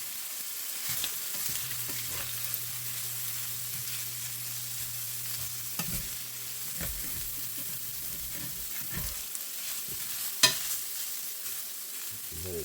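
Sausage, egg and potato frying for burritos in a 10-inch Modern Innovations skillet, a soft steady sizzle with occasional scraping and stirring clinks, close but quiet, and no one talking.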